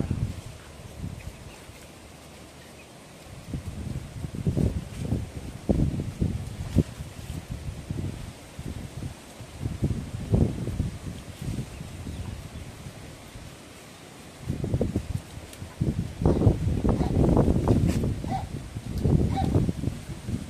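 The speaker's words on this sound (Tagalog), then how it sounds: "Malakas pa rin yung hangin dito sa amin guys." Strong wind gusts buffet the microphone in rumbling bursts that swell and fade, with quieter lulls between the loud blasts.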